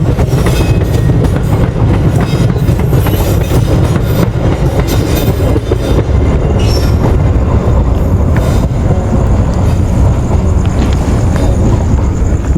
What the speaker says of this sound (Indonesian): Kereta sekarang Bekasi.